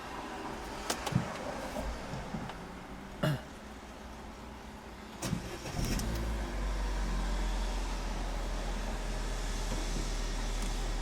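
Car driving during a driving lesson, heard from inside the cabin as a steady low engine and road hum, with a few sharp clicks and knocks and a deepening drone toward the end.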